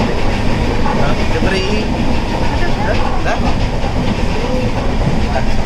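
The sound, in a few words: train running on rails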